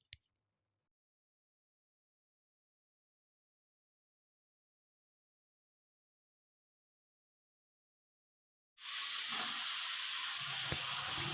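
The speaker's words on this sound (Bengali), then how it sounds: "এখন আমি ডাঁটাগুলো ভেজে নেবো হালকা করে" Fresh drumstick stalks fry lightly in oil, a steady hissing sizzle that begins abruptly after a long silence and continues close and even, with a few faint knocks of stirring; no talk.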